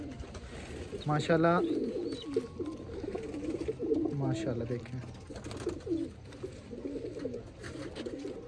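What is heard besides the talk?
pigeons cooing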